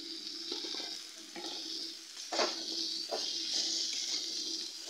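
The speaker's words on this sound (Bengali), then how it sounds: "এবার এর মধ্যে আমি কেটে রাখা ছোটো ছোটো করে ডুমো ডুমো করা আলুটা আমি দিয়ে দিলাম।" Small diced potatoes frying in spice masala in a pan, giving a steady soft sizzle with a few stirring scrapes and bursts, close by and moderately quiet, with no talking.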